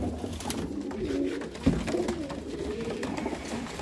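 Golden pigeons with red eyes coo softly at a bird seller's in Amritsar, Punjab, a few low cooing calls close by over faint background noise, with no talk.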